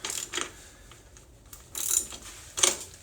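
A ratchet on the 19 mm rear axle nut of a Yamaha Super Tenere motorcycle gives a few faint, sharp metallic clicks and short ratcheting bursts, spaced apart against a quiet background.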